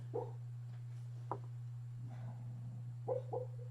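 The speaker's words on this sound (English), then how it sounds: "My dog's dreaming in the background." A sleeping dog whimpers and yips softly in its dream, a few brief muffled cries scattered across the moment against a steady electrical hum in a quiet room.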